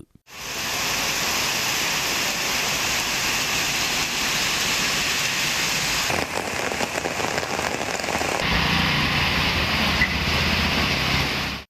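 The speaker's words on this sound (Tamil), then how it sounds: "சுமார் 2 மணி நேரத்திற்கு மேலாக இடி மின்னலுடன் கனமழை பெய்தது" Heavy rain in Tamil Nadu pours down in a dense, continuous hiss on surfaces, loud and unbroken, with a brief shift in texture midway as the downpour changes intensity.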